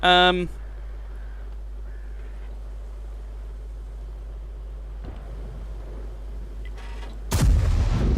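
A tank cannon in World of Tanks firing an armor-piercing round, a single sharp, loud blast near the end following a faint engine drone, with another brief burst at the very start.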